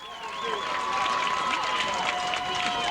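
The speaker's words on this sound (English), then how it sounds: "the defense gets a nice round of applause from the homestand side" Home-side crowd applauding the defense at a 1998 high school football game, Bruce vs Houston, a steady wash of clapping and cheering filling the stands, with some whistle-like tones riding over the continuous crowd noise.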